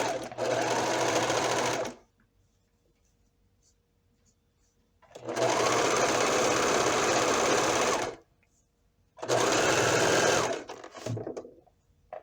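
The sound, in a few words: serger sewing machine securing stitches on blanket robe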